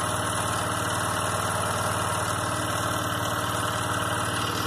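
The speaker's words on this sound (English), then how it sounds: "it took a minute to get the bike running" A 2002 Arctic Cat 375 4x4 ATV engine runs steadily after a new carburetor install, a close, constant rumbling idle with a slight knocking vibration and no voices.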